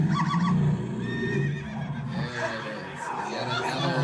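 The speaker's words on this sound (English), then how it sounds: "There's a horse too." A horse neigh sound effect plays at a live comedy show, a whinnying cry heard through loud audience laughter and chatter.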